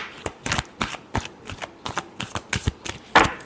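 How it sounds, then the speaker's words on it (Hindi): Tarot cards being shuffled by hand during a reading, a run of about a dozen crisp riffling bursts in quick succession, close and fairly loud, ending with a sharper final snap. "Last shuffle."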